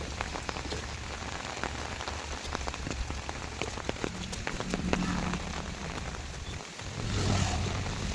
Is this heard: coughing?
no